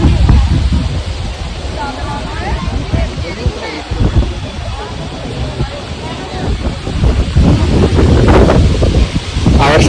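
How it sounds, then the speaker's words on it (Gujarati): Strong wind gusts buffet the microphone on the bank of the Ganges at Haridwar, roaring loudly and steadily with rushing surges, while someone talks over the blustery noise. "ગંગાના કાંઠે ઊભા છીએ, પવન બહુ છે"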